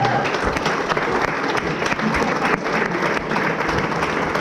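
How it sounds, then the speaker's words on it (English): Audience applause fills a celebration evening at a soccer school, a dense, steady wash of many hands clapping at close range with a few voices mixed in, holding even throughout. "We'll give you a round of applause."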